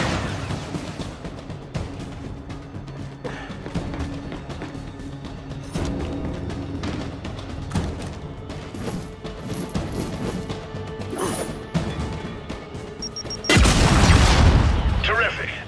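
Frag grenades detonate in the Gears 5 boot camp training on PC, a rapid series of booming blasts and crashes over continuous game noise, with one big close explosion near the end.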